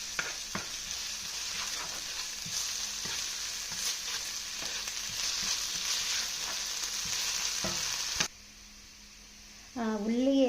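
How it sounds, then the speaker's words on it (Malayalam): Onions with ginger-garlic paste sauté in a pan for a Kerala-style fish curry, a steady close sizzle and frying hiss with occasional stirring scrapes for about eight seconds, then dropping to quiet before a voice speaks near the end. "ഇത് നമുക്ക് നന്നായിട്ട് വഴറ്റിയെടുക്കണം."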